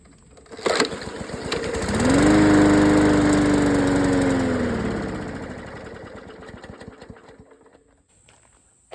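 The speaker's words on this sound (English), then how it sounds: "It'll crank and run a second and die." A push mower's small engine with a carburetor fault cranks, catches and runs loudly for a few seconds, then sputters and dies away to quiet, leaving faint ticking.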